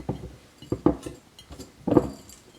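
Chopped onion tipped into glass jars, giving a few light clinks and soft scattering taps in separate bursts, close by and fairly quiet.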